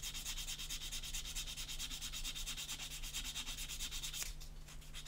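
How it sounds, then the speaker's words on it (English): A sanding sponge rubs back and forth in quick, even strokes over a plastic part of a 1/32 Bf109G-14 model kit, making a close, steady scratchy rasp with no talking. "Just a bit of scraping with a curved blade will take care of that, and finish off with a fine sanding sponge."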